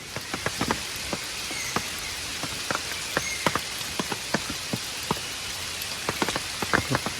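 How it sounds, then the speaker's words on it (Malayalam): Steady rain falls in Nagarhole forest on a Kabini safari, a continuous soft wash with sharp nearby drips and patters tapping irregularly throughout. "മഴ ചെറുതായിട്ടൊന്ന് ഒതുങ്ങിയെങ്കിലും സ്റ്റിൽ പെയ്യുന്നുണ്ട്."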